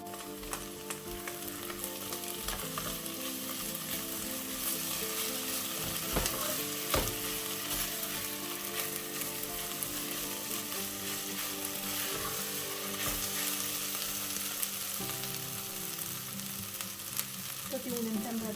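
Carrot and grated medium potato frying over low heat, a steady soft sizzle and crackle running continuously with occasional stirring clatter and small pops, no talk.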